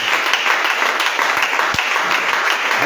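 A church congregation applauds, a dense and sustained roar of many hands clapping with occasional sharper single claps standing out, loud and continuous throughout.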